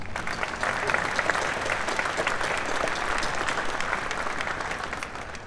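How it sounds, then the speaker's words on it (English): Steady, full-room applause at a military retirement ceremony for a retiring Navy recruiter, a continuous dense wash of clapping hands that holds evenly for several seconds before easing slightly. "This deserves another round of applause."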